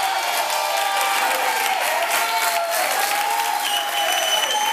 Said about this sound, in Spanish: un aplauso para Daniel